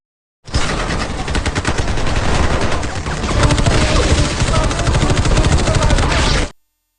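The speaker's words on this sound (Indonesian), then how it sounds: "karena kesal, pria barbar bernama Gunnar menembakkan senjatanya sebagai peringatan yang kemudian membuat situasi menjadi kacau" Gunfire from an action movie scene, where a barbarian character fires his gun as a warning, rings out as a loud, dense, rapid burst of shots lasting about six seconds and then cutting off abruptly.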